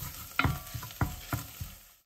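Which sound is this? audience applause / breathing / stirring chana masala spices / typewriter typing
stirring chana masala spices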